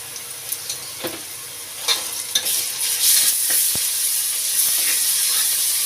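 Ginger garlic paste sizzles in a hot pan while a spoon stirs and scrapes in scattered knocks, the hiss swelling louder and steadier midway; no speech.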